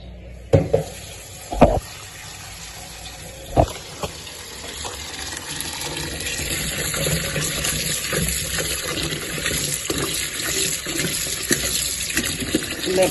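Strawberries are washed in water, with a few sharp knocks and splashes at the start, then a steady stream of running and sloshing water continuing throughout.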